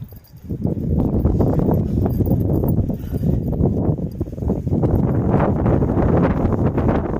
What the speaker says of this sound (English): That's what I was saying about the wind.